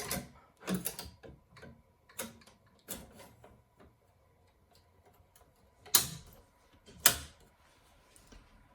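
Embroidery hoop being clipped back onto an embroidery machine: a handful of sharp plastic-and-metal clicks and clacks, irregularly spaced with quiet gaps, close and fairly soft.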